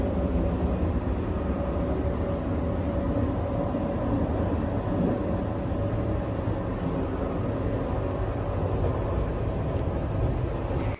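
A continuous low rumble and rhythmic rattle of a moving train in Bengaluru, heard from inside a carriage, steady and loud throughout with no talking.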